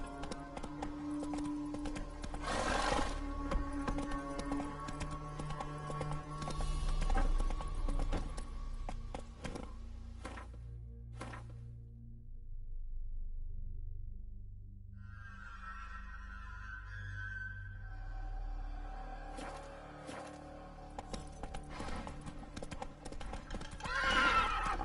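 Horse galloping in The Witcher 3: Wild Hunt, with steady hoof clip-clops and a whinny over a game soundscape and music, continuing through a quieter middle stretch before the hoofbeats pick up again.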